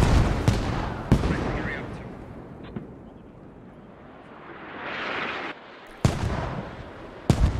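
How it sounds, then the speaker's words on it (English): A mortar barrage pounds a snowy SquadOps battlefield, with sharp heavy blasts at irregular intervals and a rumbling swell between them, under no clear talk. "Oh, a second mortar barrage."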